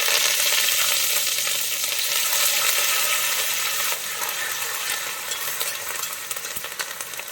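Coconut pieces, onion and curry leaves frying in oil for a Kerala-style beef fry, a loud close sizzle with stirring scrapes, easing slightly partway through, no talking.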